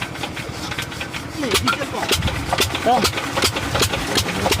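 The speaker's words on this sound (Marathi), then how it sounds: "आता इथं एक मशीन आहे ते स्टार्ट करायचं आहे" A diesel engine on a fish farm pond machine chugs and idles at close range, with a steady low rumble and people talking over it.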